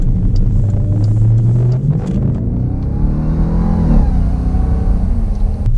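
A 2019 Jeep Grand Cherokee Trackhawk engine revs, its loud, steady rumble climbing in pitch as the revs build and then easing back, with no talking.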